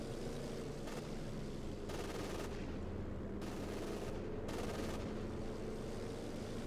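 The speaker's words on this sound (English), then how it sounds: "Panther just firing at the aircraft with the spin-up machine gun" Machine gun fire from a Panther tank shooting at aircraft in the Company of Heroes 2 strategy game: four sustained bursts, each lasting about half a second or longer, over a constant loud battle din.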